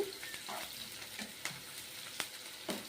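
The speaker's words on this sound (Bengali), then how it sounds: "এবার তেলের মধ্যে পেঁয়াজটা পেঁয়াজটা বেশি ভাজবো না সবজির সঙ্গেও একটু ভাজা হবে" Sliced onion frying in oil for chire pulao (flattened rice pilaf), a quiet steady sizzle broken by a few sharp scraping stirs of the spatula against the pan, with no talking.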